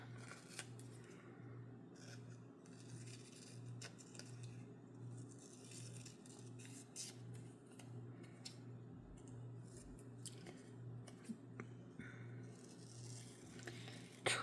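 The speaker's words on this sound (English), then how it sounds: "I think I might actually just cut out this word." Paper snipped with scissors while trimming a word out of newspaper for a junk journal, a run of soft close cuts and rustles over a steady low hum, quiet throughout.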